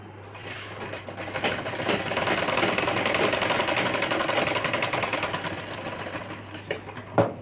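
A sewing machine runs a steady stitching line on a child's shirt, a close, continuous rapid mechanical whirr and clatter that stops with a final clunk.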